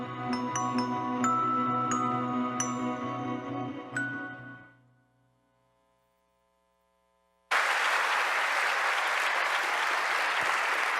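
A crowd at the State of Downtown 2018 community service award ceremony breaks into loud, sustained applause after a stretch of music and a few seconds of silence.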